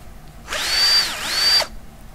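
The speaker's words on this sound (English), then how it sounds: "we're just gonna drill through where we've made the dots" A power drill fitted with a 2mm metal drill bit bores through marked dots on a small handmade guitar-pick box, giving one steady high whine lasting about a second with a brief dip in pitch midway, close and loud with no talk.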